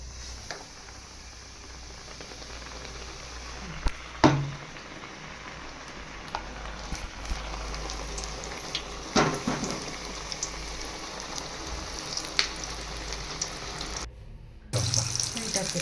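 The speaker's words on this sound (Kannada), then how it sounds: "ಕಲಸಿಟ್ಕೊಂಡಿರೋ ಕಡಲೆ ಹಿಟ್ಟು ಜೊತೆಗೆ ಕಾಯ್ದಿರೋ ಎಣ್ಣೆಯಲ್ಲಿ ಅದ್ಬಿಟ್ಟು ಹಾಕ್ಕೊತಾ ಇದ್ದೀನಿ" Gram-flour-coated chilli bajji fry in hot oil with a steady, dense crackling hiss that carries on throughout, punctuated by a few brief louder clatters near the pan.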